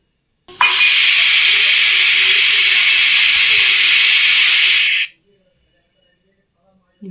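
A pressure cooker on the stove lets out one long, loud steam whistle while egg biryani cooks, a steady hiss lasting about four seconds and then cutting off into silence.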